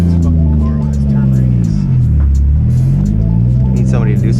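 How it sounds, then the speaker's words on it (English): A 2JZ-swapped Honda S2000 fitted with a new fuel pump pulls away, its deep engine rumble swelling and dipping as it revs, loud and close throughout, with people talking over it. "We just put a new pump in the car, taking off for the first drive."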